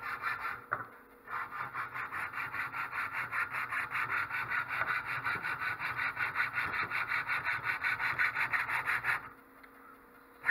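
A blade carves a nock into a wooden bow with rapid, rhythmic rasping strokes, close and steady, pausing briefly at the start and stopping just before the end.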